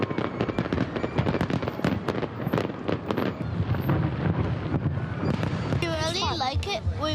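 Rapid bursts of fireworks crackle and boom close by, with voices and crowd noise underneath, then whistling shells rise near the end.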